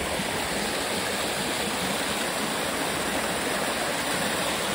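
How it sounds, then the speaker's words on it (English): A small waterfall over bedrock in the UK rushes steadily and loudly, a dense, continuous wash of splashing water with no voices. "A nice waterfall there."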